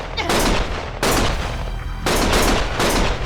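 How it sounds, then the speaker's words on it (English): Gunfire in the video game Lost Judgment comes as loud, close bursts of rapid shots, three heavy volleys separated by brief pauses. "Stop shooting!"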